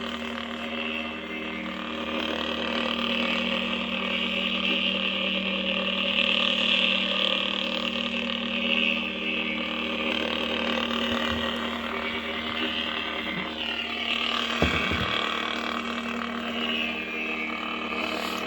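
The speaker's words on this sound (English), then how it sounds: "Listen to the motor." Steady low electric hum from a Saberforge ASP Seismic lightsaber's motor, a constant drone running the whole time with a faint background wash and a brief bump near the end.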